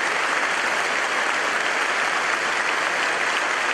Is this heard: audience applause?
yes